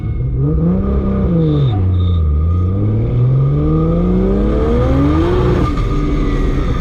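A Barra-engined Ford GT350 with a PPG sequential gearbox accelerating hard during a no-lift-shift launch test, its loud, close engine note rising, briefly dipping at a shift, then climbing steadily again.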